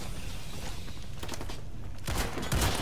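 Assault rifle fire in the shooter game Warface, a rapid burst of gunshots building through the second half, loud and close with dense repeated cracks.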